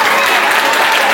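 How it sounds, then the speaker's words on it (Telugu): Loud, dense clapping from a school audience at the announcement of a student cabinet election's vote count, sustained without a break. "క్లాప్స్ కొట్టండి."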